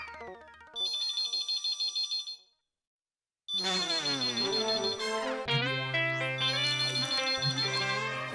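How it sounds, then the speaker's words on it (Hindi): Telephone ringing in a shop, an electronic ringtone trilling in repeated bursts, pausing briefly and then returning with a tune layered over it, loud and close with no speech. "फोन उठाऊं कि नहीं उठाऊं?"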